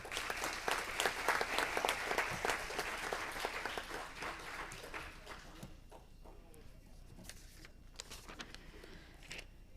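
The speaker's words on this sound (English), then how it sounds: "please, everyone, give them a round of applause" Audience at a city council meeting applauds the financial team, a dense patter of clapping that gradually thins into scattered, sparser claps toward the end.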